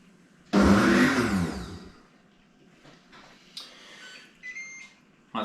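A Ninja Soup Maker chops tomatoes in one loud, close whirring burst of about a second and a half, followed by quieter clicks and short beeps.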